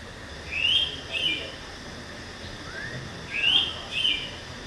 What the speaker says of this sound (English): Indian pitta is a classic example of our sub-Osine bird. Just listen to it.